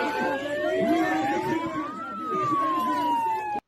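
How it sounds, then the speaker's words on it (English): A wailing siren blares at a protest, its tone sweeping up and down continuously and loud throughout, with crowd noise and faint voices underneath. "Yeah, that fucking siren."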